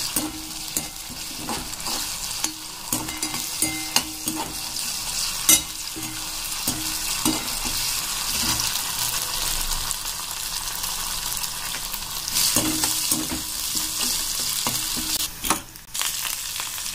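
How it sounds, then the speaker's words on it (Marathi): Ginger garlic paste is stirred into onions frying in a pan for chana masala, a continuous close sizzle overlaid by repeated scraping and clinking strokes of a spoon against the pan. "आता आपल्याला छानपैकी मिक्स करून घ्यायचं आहे।"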